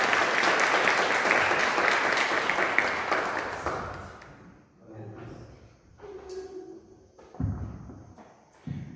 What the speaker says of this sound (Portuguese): E aplauda bem forte ao Senhor.